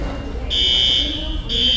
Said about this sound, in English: Can't believe the way someone pulled the fire alarm.